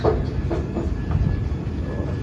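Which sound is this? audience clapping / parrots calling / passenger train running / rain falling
passenger train running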